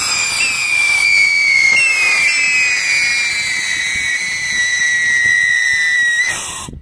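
A siren torch firework shrieks loudly, its high whistling tones sliding down in pitch for several seconds over a rough hissing roar, close and continuous, then cutting off.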